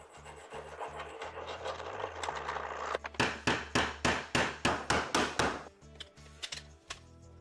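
A hand file rasps across metal in about a dozen rhythmic strokes, close and crisp, after a stretch of rubbing and low hum.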